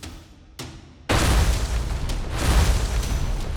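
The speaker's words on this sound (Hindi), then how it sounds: "तभी अचानक ड्रेनेज लाइन से एक ग्रेनेड दागा जाता है" A grenade fired from a drainage line explodes in a sudden loud boom, a small pop first, then a sustained heavy rumbling blast that fills the rest of the moment.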